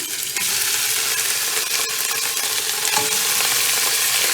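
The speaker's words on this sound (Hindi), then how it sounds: "अब इसमें हम कीमा भून लेंगे अपना।" Minced meat frying in about a quarter cup of oil makes a loud, constant sizzle and crackle, heard close with faint stirring scrapes throughout and no talking.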